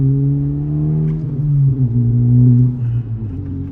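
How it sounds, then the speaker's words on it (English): Engine of a Honda Civic Type R FL5 revs during rev-matched downshifts, a loud close drone whose pitch rises and dips in quick blips, then fades toward idle. "Are we gonna rev match to third and second?"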